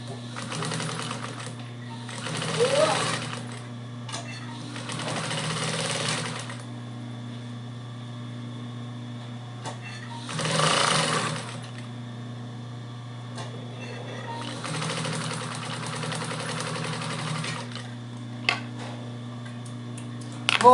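A sewing machine stitches the side seam of a fabric toiletry bag in several short runs of fast, even mechanical whirring, with quiet pauses and small clicks between them over a steady low hum.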